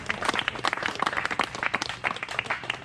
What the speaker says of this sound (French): Encore une fois, cher invité, applaudissez.